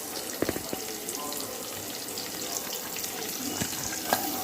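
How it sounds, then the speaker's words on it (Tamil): Steady broadband sizzle of chopped small shallots frying in oil, with curry leaves, continuous throughout with a few soft clinks and stirring taps, fairly close. "நல்லா எண்ணெயில் பொன்னிறமாக வர மாதிரி வதக்குங்க"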